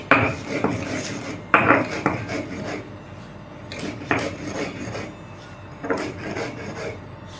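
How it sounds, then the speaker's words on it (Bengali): Dry lentils (dal) are crushed by hand in a kitchen, giving a close, gritty rasping and grinding in uneven bursts with brief pauses between strokes. "ডালটাও আমি এরকমভাবে গুঁড়িয়ে নিয়েছি, আরও একবার গুঁড়িয়ে নিচ্ছি।"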